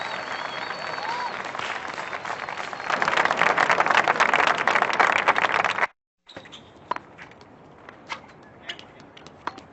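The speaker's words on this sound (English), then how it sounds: "People cheer." Tennis match crowd applauding and cheering loudly, swelling midway, then cutting to a quieter outdoor scene with scattered sharp noises and faint background sounds.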